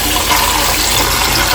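Water running from a tap and pouring out of a bowl while bananas are washed at a sink, a loud, steady splashing rush close by, with no speech.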